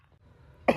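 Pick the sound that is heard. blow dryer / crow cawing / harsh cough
harsh cough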